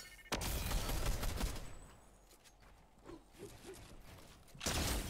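Sniper rifle fire in a video game makes two sharp, loud cracks, one near the start and one near the end, with quieter mechanical rattles between them.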